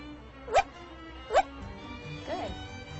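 A parrot imitating a dog bark gives two short, sharp barks about a second apart, close and clear, with faint room noise and a fainter third call afterward.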